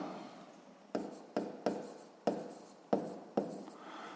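A pen writes out a sixth-grade math solution on paper, six short scratching strokes in an uneven rhythm, close and faint, with no talk.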